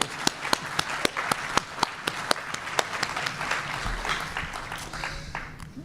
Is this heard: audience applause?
yes